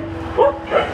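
Dog in a lakeside fishing village barking twice in quick succession, close and fairly loud, with outdoor background noise.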